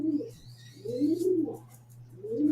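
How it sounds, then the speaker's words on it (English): A pigeon coos in low, soft, rounded calls that repeat in a slow rhythm, fairly close and clear, with faint background hum and no talking. "No, it's like a pigeon or something."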